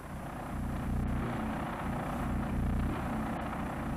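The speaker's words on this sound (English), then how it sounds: "That low rumble is the AVIC Zhuo Tian." Low, steady rumble of the AVIC Zhuo Tian, a 10-ton Chinese drone mothership aircraft, droning continuously with a slightly pulsing low end and no voices over it.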